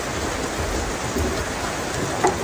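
Steady heavy rain pours down while hiking on Mount Aseupan, a dense continuous hiss on surfaces with a faint rumble underneath and no voices.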